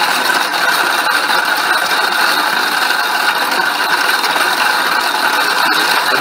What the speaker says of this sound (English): then we go ahead and turn the machine on